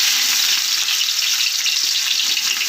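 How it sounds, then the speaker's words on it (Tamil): Fennel seeds sizzling in hot oil for tomato rice, a loud, dense, continuous crackling hiss heard up close with no other sounds. "எண்ணெய் காஞ்சிருச்சு சோம்பு கொஞ்சம் சேர்த்துக்கலாம்"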